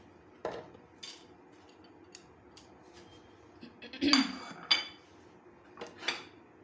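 Ingredients are tipped into a food chopper for potato lollipops, with light metallic clinks and rattles of utensils against the bowl, a sparse series of close, quiet knocks and scrapes.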